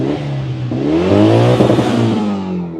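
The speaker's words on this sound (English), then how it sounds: "Oh, I can't rev the engine at all." An old Japanese car engine is revved close by, rising in pitch and loudness to a strained peak near the middle before easing back down, alone without talk.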